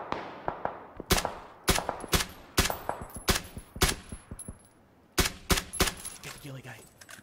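Gunfire in PUBG, repeated sharp shots in bursts across the clip, loud and close with a few quieter pops between, while players talk over the action.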